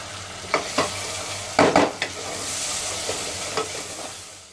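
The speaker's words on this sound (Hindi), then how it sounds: "एक टेबल स्पून अदरक लहसुन पेस्ट ऐड कर देंगे।" Ginger garlic paste fries in a hot pan with tomatoes and onions, a steady sizzle broken by several scraping stirs of a spoon, close and clear, no talk.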